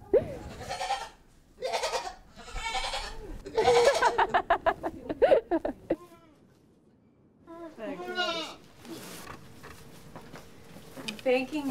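Goats bleat repeatedly during an outdoor goat yoga class, several loud wavering cries close by, coming in clusters with a short quiet pause partway through.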